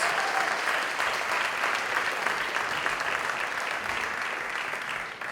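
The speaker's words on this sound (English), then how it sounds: "let's welcome a round of applause for our teams" Audience applause at a digital storytelling talk in Barcelona as the teams come up on stage, a steady, dense wash of clapping that holds evenly throughout before easing slightly at the end.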